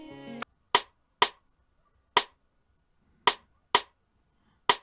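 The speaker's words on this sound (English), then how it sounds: "So after that I have a rim shot here." Sharp, dry rim shot sample hits from an Afrobeat beat in FL Studio, spaced irregularly, about six strikes with quiet gaps between, each a crisp crack with a short ringing tail.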